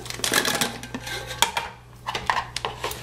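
A Sea to Summit folding pot is squeezed open, giving a few sharp clacks and light metallic rattles, close and alone.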